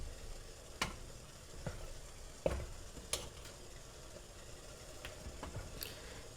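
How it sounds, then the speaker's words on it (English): A spoon stirs ingredients melting in a double boiler over medium heat for cupcake making, giving soft scraping and sizzling textures with a few sharp clicks and taps against the bowl, close and quiet, with no talking. "it will also speed up the process if you grab a spoon and stir it"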